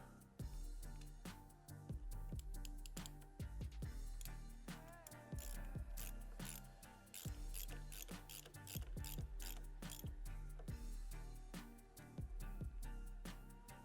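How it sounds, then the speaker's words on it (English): A ratchet and nut driver tighten a fastener on a Harley-Davidson 2-into-1 exhaust: rapid, close metallic clicking in repeated bursts with short pauses, loud and alone with no talking. "It's just a simple nut driver, but it has an end that you can put a ratchet on."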